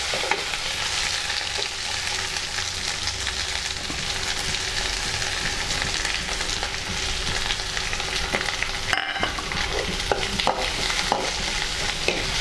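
Sliced onions fry golden in a pan alongside bay leaf and curry leaves, with a continuous close sizzle broken by repeated scraping stirs and a sharper clatter partway through, with no talk over it.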